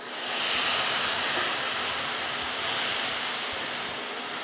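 Milk poured over fried vermicelli and sugar in a hot pan gives a loud, steady sizzling hiss that holds for several seconds, with no one talking.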